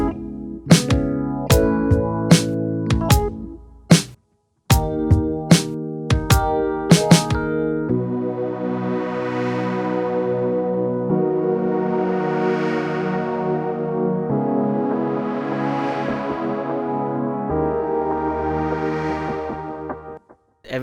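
A slow pop song moves from a verse with sharp, punchy drum hits and a short gap into a softer pre-chorus, where the drums drop out and a percussion loop rides under swelling sustained synth chords, loud and clear with no voices.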